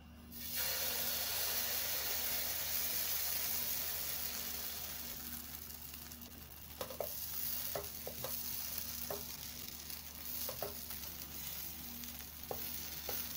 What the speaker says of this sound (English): Do this until you fry the whole batter.